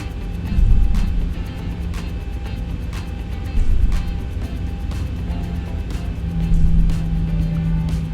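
Boeing 737 jet engines spool up for taxi in X-Plane 11. A steady turbine hum and whine holds throughout, with a low rumble swelling three times at regular intervals.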